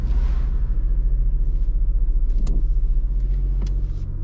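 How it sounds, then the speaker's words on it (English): A car engine idles low and steady while the vehicle reverses slowly about two car lengths along a curb, a constant close rumble with a couple of faint clicks. "I've now got to reverse roughly two car lengths, keeping it reasonably close to the curb."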